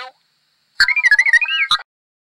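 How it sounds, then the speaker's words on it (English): An R2-D2 toy droid's burst of warbling, chirping electronic beeps plays loud and close for about a second, followed by silence. "Can you hear R2-D2?"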